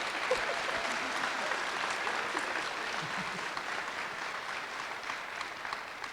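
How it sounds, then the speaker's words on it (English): Audience applauding panelists at the close of a session at a farming conference on land access: steady, dense clapping from a crowd that carries on evenly through the whole stretch, with no voices over it. "Let's give our panelists a round of applause."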